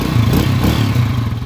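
A Honda TMX 155 motorcycle engine with a slightly rough timing gear, due for a 200cc conversion, runs steadily up close, a loud, continuous low chugging idle with no talking over it.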